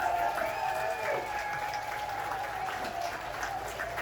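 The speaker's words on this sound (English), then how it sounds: "So let me have everybody give Jordan a round of applause for standing up for journalism" A crowd applauds steadily, a dense patter of clapping at moderate distance, with a few voices faintly audible underneath.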